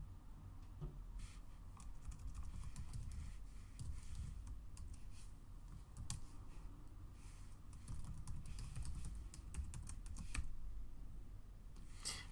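Fingers type an SSH command to a Linux server on a computer keyboard: a quiet, continuous patter of rapid key clicks with brief pauses, heard alone at low level.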